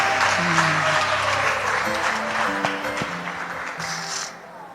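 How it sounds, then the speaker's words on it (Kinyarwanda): An audience applauds in a steady, sustained wash of clapping, with faint tonal sounds underneath; the clapping holds fairly even, then thins and fades away at the close. "Tumwongera amashyi menshi Christian."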